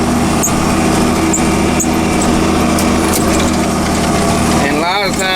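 A tractor pulling a wheat drill turns at the end of a field pass, its engine droning loud and steady with mechanical clatter, and a voice rising briefly near the end.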